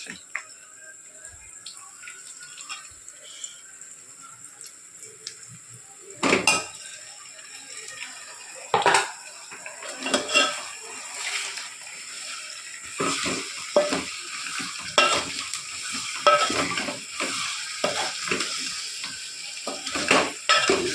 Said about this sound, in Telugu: దీంట్లో ఇప్పుడు మనం మొత్తం చికెన్ అంతా వేసేసుకుందాం